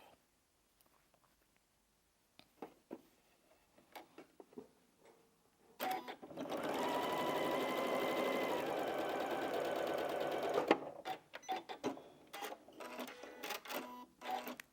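Side fabric pieces of a quilted spools block are stitched on a sewing machine with a quarter-inch seam in one steady run of about five seconds, framed by quiet handling clicks and rustles before and after.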